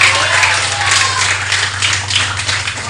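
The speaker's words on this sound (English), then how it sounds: "No doubt you can hear the noise of the crowd very, very much into this game" A crowd at an under-15 youth cricket festival match claps and cheers in a loose, continuous wash of applause, heard from a middle distance with scattered sharper claps.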